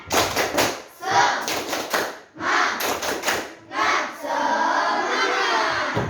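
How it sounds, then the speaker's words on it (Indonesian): A group in Indonesia claps a rhythmic spirit clap, tepuk semangat, in sharp bursts of loud claps separated by short pauses, ending in a steadier wash of crowd noise and voices. "kita tepuk semangat dulu untuk kita semua"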